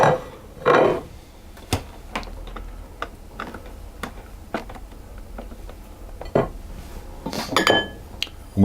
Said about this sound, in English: we'll put the butter and the sugar into a bowl